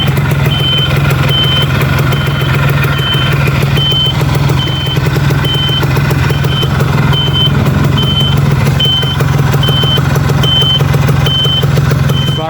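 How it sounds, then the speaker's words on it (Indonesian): A restored 2001 Yamaha F1ZR motorcycle idles with a steady, even low hum from start to finish, while a regular high-pitched beeping repeats over it the whole time. "Suara mesinnya kita dengarkan suara mesin."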